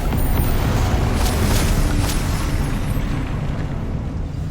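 A Confringo blasting spell explodes in Hogwarts Legacy during Percival Rackham's Trial, a loud sustained roaring blast that fills the whole moment before slowly easing off.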